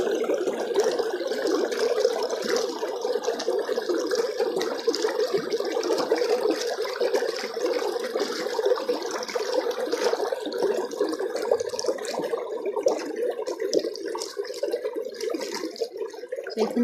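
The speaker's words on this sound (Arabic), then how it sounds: "كمان صوت الميه لوحده اصلا" Water flows steadily through farmland among crops, a close continuous gurgling and rushing with small splashes, and no voices over it.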